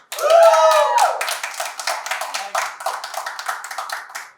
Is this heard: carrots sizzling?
no